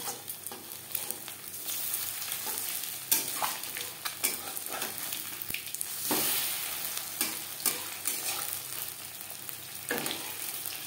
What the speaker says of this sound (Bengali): ডিমের পাকোড়া ক্রিস্পি করে ভাজা হয়ে গেছে